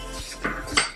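A spoon knocks twice against a pan while ghee is stirred into almond chikki sugar syrup, two quick close clinks in a moment of near silence.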